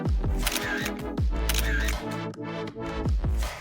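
A phone camera snaps a quick series of selfie photos, several crisp shutter clicks in an uneven burst, close and clear over a background of music-like tones.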